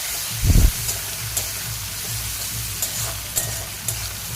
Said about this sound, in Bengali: দেখো, মিনিট 2-এর মতো একদম হাই হিটে আমি চিংড়ি মাছটাকেও ভেজে নিচ্ছি